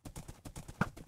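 Horse hooves clip-clop in the Hoplite video game, a fast, even run of hoofbeats at moderate volume, with a brief thud near the end.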